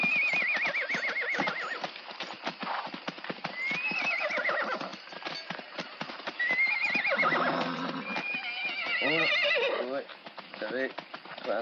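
Horses whinny and neigh repeatedly while their hooves clip-clop in a busy, overlapping flurry, with shouting voices mixed in throughout as the horses are stolen.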